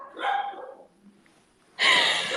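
Dogs bark in a room, a burst of loud, dense barking near the end after a quieter earlier yelp-like sound, close to the microphone with no talk over it.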